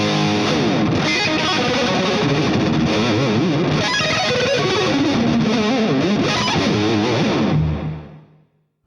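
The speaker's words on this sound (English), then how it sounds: "the Mega Booster. It basically just gives you a little bit of push on the amp" An electric guitar played through a Rocktron Mega Booster boost pedal into an amp, a loud, driven, slightly gritty tone with strummed chords and melodic runs that ring out and then cut off at the end.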